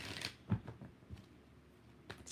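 Tarot cards being shuffled: quiet, soft riffling rustles and a few light snaps, spaced irregularly and close by.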